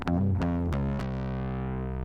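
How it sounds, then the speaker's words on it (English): A bass line runs through a Softube saturation plug-in, a few plucked notes with gritty harmonic distortion followed by one note left to ring and sustain, played alone without talk. "How about the saturation plug by Softtube?"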